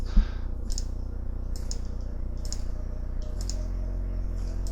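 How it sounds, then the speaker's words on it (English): Rapid mouse or keyboard clicking over a steady low hum, with faint bursts of Diablo III game sound in the background and no talking. "Ignore the clicking here, guys."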